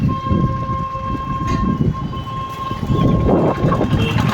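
A train rumbles past the Bargachhia railway crossing, a loud, continuous rolling roar with a sustained whistle-like tone running through it and no voices.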